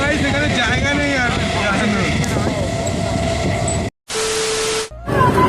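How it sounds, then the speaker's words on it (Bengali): A train pulls into Bidhannagar station with a loud, steady rumble and squealing wheels under people talking on the platform, then a brief sharp drop-out before the noise returns. "আমাদের ট্রেন এখন চলে এসেছে।"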